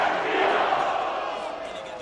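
Large crowd roaring and cheering at an NFL playoff game, Eagles versus Lions wild card, with a dense, sustained wall of voices that stays loud throughout.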